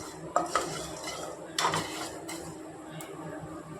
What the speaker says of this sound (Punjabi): ਆਦੇ ਦਾਣੇ ਤੜਕਣ ਲੱਗ ਗਏ ਨੇ ਰਾਈ ਦੇ